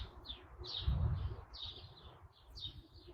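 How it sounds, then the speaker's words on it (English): Birds chirp outdoors in a calm, open setting: short bright calls repeat every half second or so at moderate distance, over a low soft rumble of ambient noise. "It is beautiful out here with the birds and stuff."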